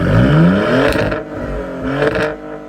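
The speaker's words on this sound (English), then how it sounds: "while there's no matching a Ferrari V8 with a 6-cylinder, it still sounds pretty good" A 2024 Maserati GranTurismo six-cylinder engine revs loudly and close, climbing in pitch, easing off, then swelling again in a second shorter rev.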